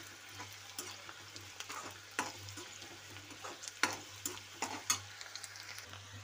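Onions frying in a pan, with a steady soft sizzle under repeated scraping stirs, close and fairly quiet, with no talk.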